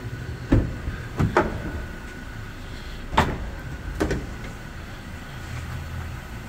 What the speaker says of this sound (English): As you can see, got the side loading door.